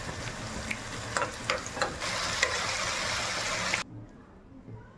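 Sambar with tomato, asafoetida and tamarind water cooks in a pan, a soft, steady sizzle and bubbling with a few light stirring clinks, ending abruptly into quiet.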